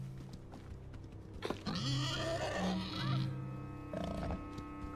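Pig-like alien creature in the game Planet of Lana, giving a few loud bleating, grunting calls over a low ambient hum, with a brief rustle before them and a quieter call near the end.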